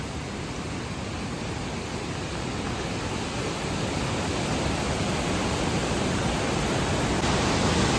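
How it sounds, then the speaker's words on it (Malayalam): Water released from Kallar dam near Nedumkandam in Idukki rushes out through a tunnel, a loud, unbroken roar of torrential flow that stays steady and close throughout, with no voices. "ഒക്കെ വെള്ളം ഒഴുകി വരുന്ന വരവ് കേട്ടോ"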